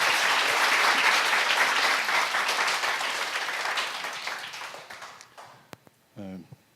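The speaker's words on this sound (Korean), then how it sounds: "우리 박수로 환영해 주시기 바랍니다" A church congregation claps loudly to welcome a guest speaker, a dense burst of applause that gradually thins and fades out, followed by a few scattered claps and a brief spoken voice at the end.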